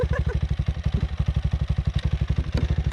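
A KTM 525 motorcycle engine runs close and loud with a fast regular thumping single-cylinder pulse, staying near idle with slight throttle rises and no talking.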